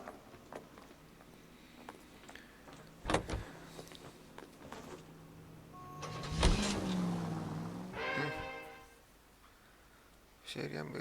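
A car in the video game L.A. Noire, with a door thunk, an engine starting and revving briefly, then quieter idling and motor hum, under game dialogue and background music.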